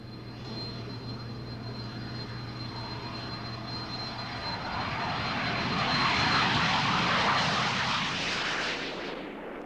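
An L-29 jet trainer aircraft takes off, its engine a steady loud roar with a high whine that builds and swells midway, then eases slightly near the end; no talking.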